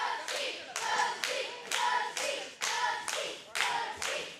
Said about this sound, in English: We got some cheering on the side.